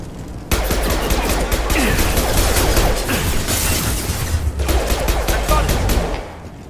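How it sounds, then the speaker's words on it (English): Sustained automatic gunfire from Blue Suns and Vorcha enemies in the video game Mass Effect 2, loud continuous bursts with explosive bangs that begin abruptly and run almost without pause. "Blue Suns and Vorcha shooting anything that moves."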